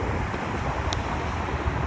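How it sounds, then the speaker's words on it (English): Ocean surf and a chilly wind coming off the water at a beach, a steady broad roar of waves mixed with gusty microphone rumble, with no voices. "It's the wind's coming off the ocean"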